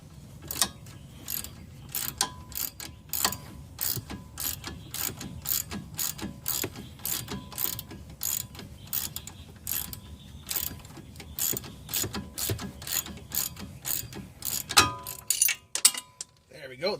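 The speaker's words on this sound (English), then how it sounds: "able to use the wrench to take out the bolt" A ratchet wrench clicks in steady, rapid strokes while backing out a sway bar link bolt on a Mk5 VW Rabbit, Jetta or GTI, close and clear, with a few looser clunks as the bolt comes free at the end.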